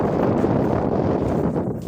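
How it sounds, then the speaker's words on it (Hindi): Strong wind at Al Ashosh, United Arab Emirates, roars steadily across the microphone throughout, a loud, constant buffeting rush with no other sounds standing out. "अभी ये बहुत ज़्यादा तेज़ हवा चल रही है।"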